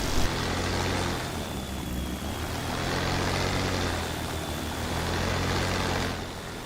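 A Messerschmitt Bf 109 piston engine in the DCS flight simulator, a loud, steady propeller drone with a deep throbbing rumble that pulses gently throughout.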